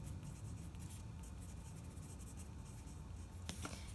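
A pencil shading on paper with the side of its lead gives a close, even, gritty scratching that runs without pause, with a sharper scrape near the end; no voices.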